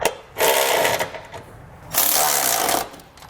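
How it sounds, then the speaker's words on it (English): A 19mm socket on a ratcheting tool snugs up Curt trailer hitch bolts on a 2019 Buick Enclave, heard as two close, loud bursts of whirring tool noise separated by a short pause. "So I'll take a 19mm socket and snug them up."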